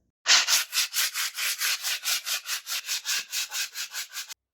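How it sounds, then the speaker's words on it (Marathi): Sandpaper worked by hand across a damaged wall patch, cleaning it before wallpaper goes up: about seventeen steady, even rasping strokes in a quick back-and-forth rhythm, close and fairly loud, with no talking. "सँड पेपरनं व्यवस्थित घासून घ्यायचा"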